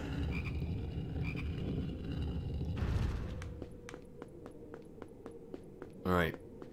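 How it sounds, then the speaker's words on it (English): Frog croaking in the Harry Potter and the Philosopher's Stone PS2 video game, a rapid rattling croak bursting out near the end after a run of steady clicking footstep-like taps over low game ambience. "God, do I need to find another frog."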